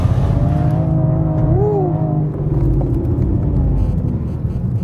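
A BMW M4 CSL engine howls loudly and continuously while the car drifts, holding high revs with a quick upshift midway and the note carrying on through the slide, no talking.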